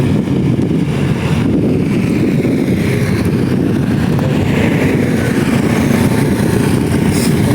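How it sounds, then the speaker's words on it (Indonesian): An old full-diesel truck grinds up the Sungai Karas hill climb, a steady loud low engine drone with wind buffeting throughout, heard from nearby with no talk. "Satu unit full diesel tua. Dilibas saja tanjakan Sungai Karas bosku."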